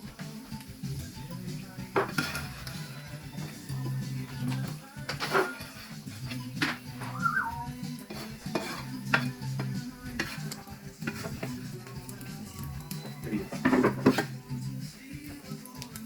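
Bacon frying in cooking oil in a pan, a steady low sizzle with scattered clinks and scrapes of a utensil stirring against the pan, moderately close, with no talk.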